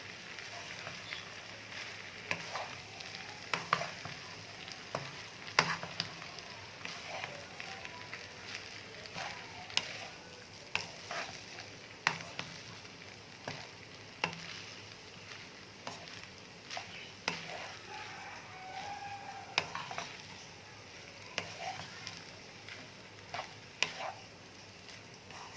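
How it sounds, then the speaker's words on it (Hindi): Chinese rice being stirred and mixed with fried egg in a pan, repeated scraping and clinking of a spatula over a soft sizzle, irregular strokes continuing steadily. "इन सब चीज़ों को अच्छी तरह मिक्स करेंगे।"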